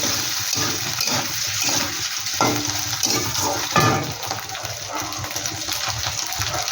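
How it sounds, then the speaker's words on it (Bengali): Ginger paste frying lightly in a pan for a fish and lau shak dish, giving a steady close sizzle with soft stirring scrapes throughout and no talking. "আদাটা একটুখানি আমি নিচে করে নিচ্ছি, ভেজে নিচ্ছি হালকা করে।"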